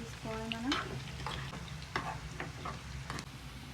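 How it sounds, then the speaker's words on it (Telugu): Spices fry in hot oil for a Telugu-style chicken pickle, a soft steady sizzle broken by a few sharp spoon-against-pan scrapes and stirring clicks, close and moderately quiet. "ఆయిల్లో మసాలాస్ అవి ఫ్రై చేసి తీసుకోవాలి మనం"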